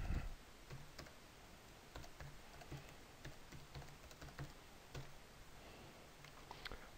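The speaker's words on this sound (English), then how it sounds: "I'm going to put in my standard password again." Someone types a password on a computer keyboard: a faint, quiet run of soft key clicks at an uneven pace over a low background hush.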